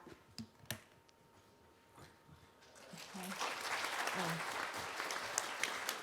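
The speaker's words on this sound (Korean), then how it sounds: "뜨거운 박수로 마무리할까요?" Audience applause closing a presentation at an East Asian welfare policy conference; a few sparse, isolated claps and light ticks first, then fuller clapping swelling up from about three seconds and continuing, moderately quiet and roomy.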